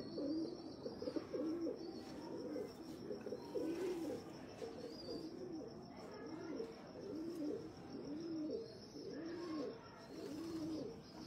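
Pigeons cooing on a rooftop in Faisalabad, a soft repeated rhythmic coo about once a second from nearby birds, with faint chirps and distant background noise behind.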